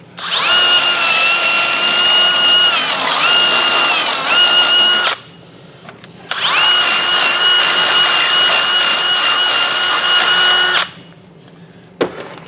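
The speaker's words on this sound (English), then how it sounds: "I just take a small drill bit." A small power drill whines loudly in two long bursts of about five seconds each, cleaning out holes on a 2000 Chevy Silverado 1500 4x4 rear brake, its pitch dipping slightly as it bites, with a short quiet gap between.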